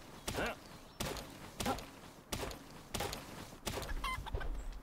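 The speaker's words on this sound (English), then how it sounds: "The chicken's trying to eat me!" Chicken clucking in the video game Palworld, mixed with heavy thumping footsteps or impacts at a steady, uneven rhythm, with a voice murmuring faintly underneath.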